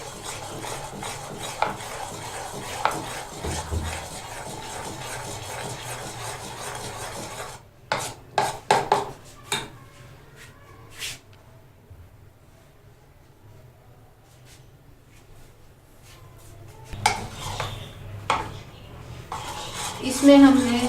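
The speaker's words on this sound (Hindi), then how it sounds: "इसमें हमने ऑयल डालकर या घी मक्खन जो भी डालेंगे उसको इतना बीट करना है कि अच्छी तरह इस तरह का मिक्सचर तैयार हो जाए" Cake batter with oil being beaten by hand in a bowl for a fruit cake, rhythmic close scraping and rubbing strokes that pause midway, then resume with clinks of utensil against the bowl; brief faint voice.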